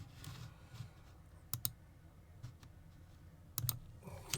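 A few sharp computer mouse clicks on a desktop, heard as isolated close double clicks over quiet room tone.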